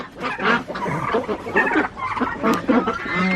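Chickens cluck in a coop, close and busy, with a run of short overlapping clucks and honk-like calls.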